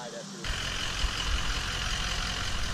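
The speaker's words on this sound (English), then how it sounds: "Can you hear that truck for miles away?" A big pickup nicknamed the blue beast arrives at a creekside camp after a packrafting trip, its engine a steady low rumble that swells in at once and holds loud and near, with voices talking over it.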